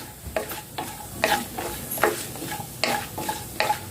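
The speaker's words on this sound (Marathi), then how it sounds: "हे जे ड्रायफ्रुट्स आहे ते ड्रायफ्रुट्स आपल्याला थोडेसे तळून घ्यायचे आहे" Dry fruits fry in ghee for moong dal halwa while a spatula stirs them, with sharp scraping strokes in a steady rhythm over a soft sizzle and no talking.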